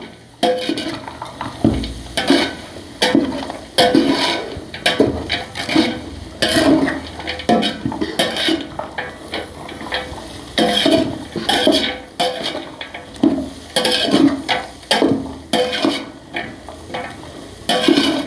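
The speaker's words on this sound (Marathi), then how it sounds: "चांगलं व्यवस्थित हलवून घ्यायचं आहे" Soybean chunks stirred in a cooking pot with a spoon: repeated close, loud scraping and clattering strokes in an uneven rhythm, with a faint sizzle underneath and no talk.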